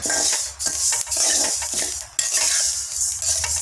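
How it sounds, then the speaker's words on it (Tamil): Pearl millet grains crackling and popping in a dry hot pan, with a spoon scraping and stirring in bursts, close up and without talk. "வெடிக்கிற சவுண்டு கேட்குதா"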